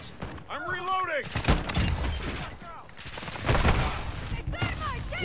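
Gunfire in Call of Duty: Modern Warfare II, a busy mix of shots and bursts with whistling and whirring effects mixed in, loud and close, and people talk throughout.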